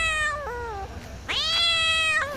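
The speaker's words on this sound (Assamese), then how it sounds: "মেকুৰীটো চা" A cat on a dark road at night gives two loud, close, drawn-out meows with a short gap between them and no voices.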